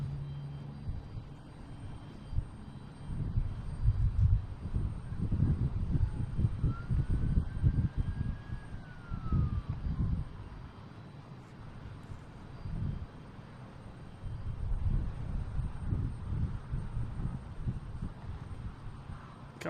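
A Scandinavian Airlines airliner arriving from Copenhagen at Boston Logan, a low, rumbling engine roar that swells and fades unevenly with wind buffeting the microphone; no speech.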